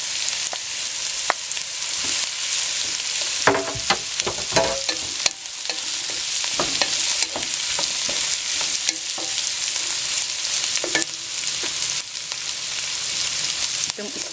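Pork and chicken for pancit bihon sizzle loudly in a hot pan, the constant hiss broken by frequent spatula scrapes, clinks and stirring clatter throughout.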